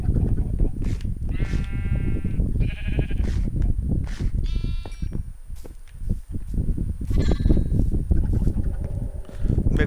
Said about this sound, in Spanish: No, borrego.